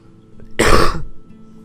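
A single sharp throat clear with a short cough burst, close and loud, in an otherwise quiet room.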